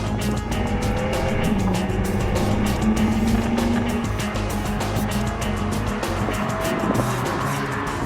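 A BMW M4 powers up the winding Yelagiri hill climb, its engine roaring loud and steady throughout with tire squeal under hard cornering.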